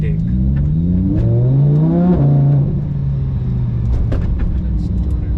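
A Lamborghini Huracan with a factory-fitted race exhaust, driven in India in sport mode, revs up with a rising engine note then settles into a loud steady drone, close and prominent, with a voice talking over it.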